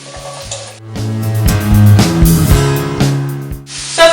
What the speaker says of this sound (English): I've cut up potatoes into tiny little cubes and we're just going to fry it